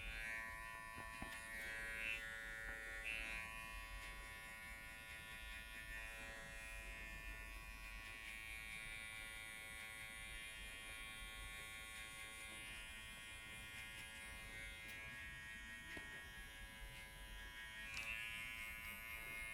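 Electric hair clipper running with no guard while cutting straight hair for a low fade, a steady close buzzing hum that holds almost unchanged throughout, with no talking.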